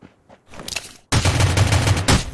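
Gunfire in the battle royale game Rules of Survival: a sparse scatter of faint shots at first, then a sudden loud, dense burst of sustained rapid fire filling the second half, with no talk over it.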